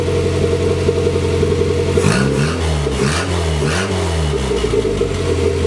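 A car engine idles steadily, then its throttle is blipped several times in quick succession, each rev rising and falling in a close, loud, continuous mechanical roar.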